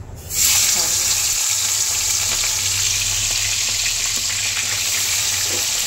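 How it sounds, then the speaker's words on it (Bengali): Prawns drop into hot oil with a sudden loud sizzle that holds as a steady, close hiss of frying for several seconds. "তেলটা গরম হয়ে গেছে। চিংড়ি মাছকে ছেড়ে দেবো।"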